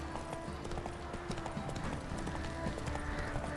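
A horse's hooves clip-clop in a fast, steady gallop over a continuous ground rumble, close and fairly loud throughout.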